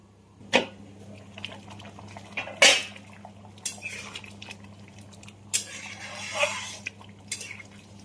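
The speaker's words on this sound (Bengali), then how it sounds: "এবার ফোটার জন্য ঢাকা দিয়ে দেবো।" A lid goes onto a pot of lentil dal with ridge gourd set to boil, giving a few sharp metallic clanks and scrapes spaced apart over a quiet kitchen background with faint bubbling.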